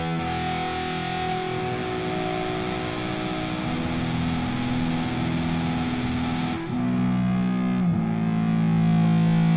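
A guitar runs through a pedalboard effects unit, giving a thick, continuously distorted tone with sustained droning notes and a gritty, saturated texture, with no talking.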